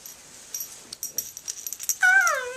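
A pet dog whimpers softly indoors, a few faint sniffs and shuffles leading into a brief high, wavering whine near the end.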